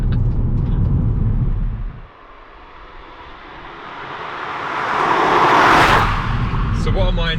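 A BMW 128ti hot hatch drives along a road with a steady engine and tyre rumble that eases briefly and then swells to a louder roaring pass-by, with a voice speaking over part of it.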